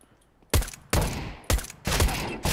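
Counter-Strike: Global Offensive gunfire: a quick string of sharp, loud shots and short bursts ring out close together after a brief quiet start.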